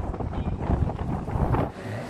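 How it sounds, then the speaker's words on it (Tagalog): Wind buffets the microphone in gusty, rumbling bursts at a bus departure area on the Macau to Hong Kong route, loud and continuous with no speech. "Ang hangin."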